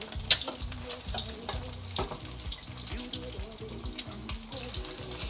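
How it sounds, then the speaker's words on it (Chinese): Beaten eggs fry in a generous amount of hot oil in a wok, giving a steady crackling sizzle with bursts of spattering and occasional scraping, close up with no talking. "不动它，先炸先煎"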